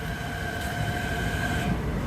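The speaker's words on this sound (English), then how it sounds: "Our train approached the platform slowly and quietly until it was right upon us" A Long Island Rail Road electric train rolls slowly into the platform, with a steady rumble of wheels and a sustained high-pitched whine close by.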